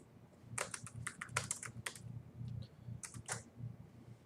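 Quick bursts of keystrokes on a computer keyboard while entering text in Windows 95 running under DOSBox, clicking in uneven clusters over a low steady hum, close and fairly quiet, with no voices.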